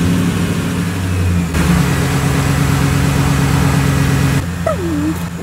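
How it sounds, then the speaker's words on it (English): A lifted truck's engine, freshly serviced with new oil, runs steadily with strong low harmonic drone, close and loud, shifting pitch partway and settling at idle, no talking. "Let's see if she'll start up now with the new oil."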